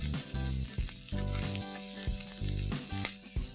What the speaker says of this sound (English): Saute these capsicum squares for a few seconds.